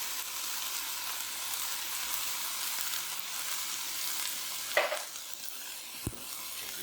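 Cajun spices frying in a pan until fragrant, a soft, steady sizzle with a few light scrapes and taps of a utensil near the end, fairly faint and without talk.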